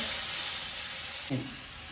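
Chopped onion and tomato fry in a pan for a Punjabi-style kofta curry, a steady soft broadband sizzle with a brief stirring scrape near the end.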